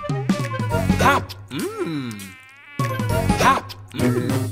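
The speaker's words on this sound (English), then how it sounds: "One mosquito flies by." A cartoon mosquito buzzes past in a children's song, a short, bright, warbling drone that swoops up and down between sung phrases.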